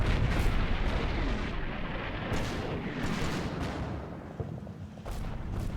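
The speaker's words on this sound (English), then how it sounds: "So I'm shelling around it in the hopes that we can suppress it a bit" Artillery shells and Katyusha rockets landing close by in a wartime battle set in Poland, 1945, from Combat Mission, a dense continuous rumble of explosions with repeated heavier blasts throughout, no talk.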